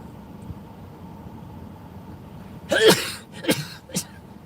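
One sharp, loud sneeze bursts out nearby, followed by two shorter explosive bursts, rising over a quiet background hum.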